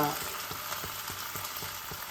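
Potatoes frying in a pan as tomato pieces go in for a potato-tomato curry, a steady close sizzle with soft regular scraping or stirring taps, no talking.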